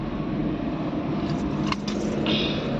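Car being driven, a steady engine and road rumble from inside the cabin, continuous and fairly loud, with a few faint clicks and a brief higher tone near the end.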